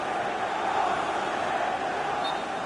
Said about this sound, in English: The crowd have played their part. Just listen to them.